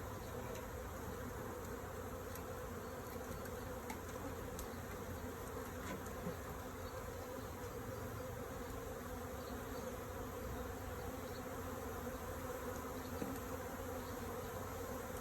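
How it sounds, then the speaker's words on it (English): A honey bee swarm clustered in a tree gives a steady, dense buzzing hum that holds at a constant level the whole time, with no voices. "I'm not sure if I caught this queen or not. I guess we'll find out once they stop swarming."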